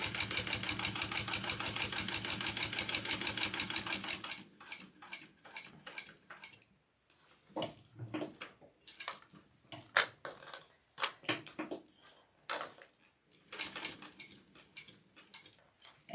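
A sewing machine top stitching a fabric sling runs in a fast, even stream of mechanical ticks, then breaks into short, irregular bursts of stitching separated by pauses.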